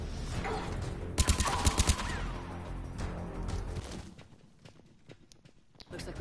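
Gunfire from the video game Mass Effect comes in a quick burst of sharp, loud shots, followed by scattered single reports and impacts that thin out toward the end.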